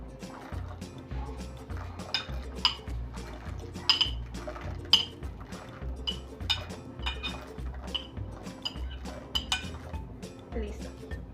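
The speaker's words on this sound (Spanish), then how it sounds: "Y también vamos a agregar los garbanzos precocidos que ya teníamos" Pre-cooked chickpeas tumble into a pot of broth while a chicken soup is being made, giving a run of light clinks, knocks and splashy liquid sounds with soft kitchen clatter throughout.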